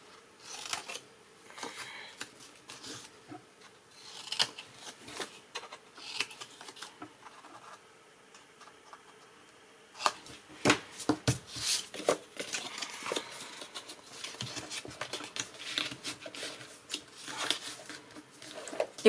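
A sheet of paper is creased and its folds bevelled by hand: soft rubbing, scraping and crinkling strokes come in quiet irregular bursts, busier in the second half, with no talk.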